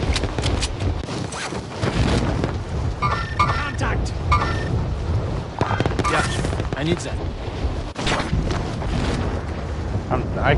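Rumbling blasts and rapid gunfire-like bursts from Warzone on PS5 fill a dense, continuous game mix, with a voice talking over the action throughout.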